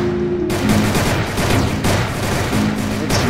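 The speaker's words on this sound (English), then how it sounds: "Stop shooting at me." Dense, continuous rapid gunfire from a video game firefight, loud and close, with overlapping bursts and booms filling the whole stretch and no voices.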